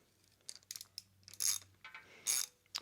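Ratchet loosening engine head bolts on a Volvo motor, with several quiet bursts of rapid clicking, some longer and louder, separated by short pauses and a faint background hum.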